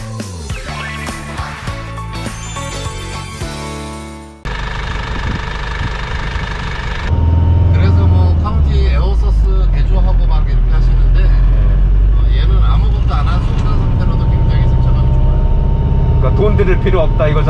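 A converted camper bus rumbles along with a steady low engine drone and road vibration that grows heavier partway through, while people talk inside the cabin over the noise.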